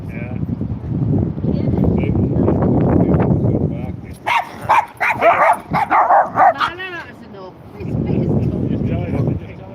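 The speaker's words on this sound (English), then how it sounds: "The two Jack Russells." Jack Russell terriers barking on a beach in a quick burst of sharp, close yaps and yips between stretches of people talking nearby.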